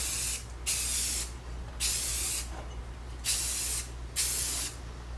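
Close bursts of spray paint coating car wiper arms, five loud hissing sprays of about a second each separated by short pauses over a low steady hum, with no talk.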